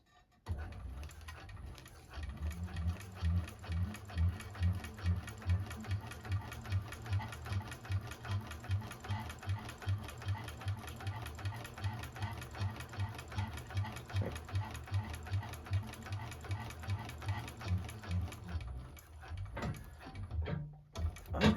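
A Juki 1341 cylinder arm sewing machine bastes bag pieces together, a steady, fast mechanical stitching chatter running nearly nonstop at close range before stopping near the end.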